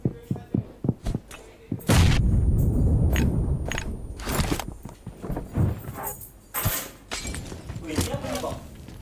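A bomb blast in PUBG Mobile on the Erangel map erupts as a loud, booming burst with a shattering crack and rumbling tail, followed by scattered thuds and gunfire-like bangs, with voices talking throughout.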